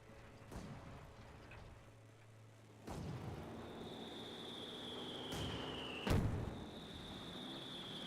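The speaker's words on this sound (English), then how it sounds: "Smoke barrage running on in." Smoke barrage artillery in the WWII strategy game Company of Heroes 2: several distant booming shots a few seconds apart, each with a rumbling tail, over a low battlefield ambience and a thin high whistling tone.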